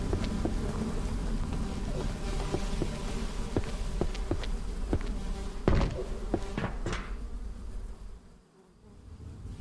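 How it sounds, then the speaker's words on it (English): Steady, close buzzing of bees in a video game fills nearly the whole stretch, with sharp clicks and thumps breaking in, then dropping away briefly near the end. "Also, I hear bees."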